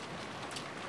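Steady rain pours down in a continuous, even hiss with no voices, a dense wash of drops on a surface.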